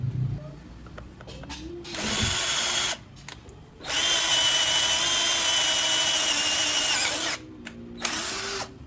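A cheap Decker cordless drill whirs in several bursts at speed 1, long steady runs separated by short pauses, loud and close with no talking.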